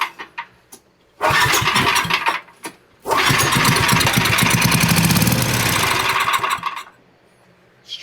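An old Powermate portable generator engine cranks and sputters in two long loud bursts, struggling and failing to reach running speed, separated by brief quiet gaps with a few clicks.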